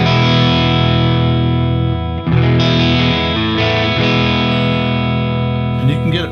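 Friedman IR-D electric guitar on a clean channel, ringing chords with a warm, undistorted tone, played steadily with a brief pause and fresh strum near the end.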